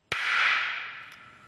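Test shot from a large cannon fired without propellant charges, a single sharp loud crack that starts abruptly and leaves a bright, hissing decay trailing off over about a second.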